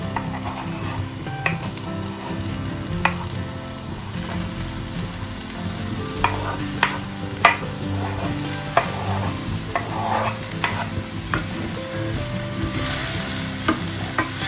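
Garlic and sauce ingredients for meatballs in red wine sizzle steadily in a pan while being stirred, with a continuous frying hiss broken by occasional utensil scrapes and taps, close and fairly loud.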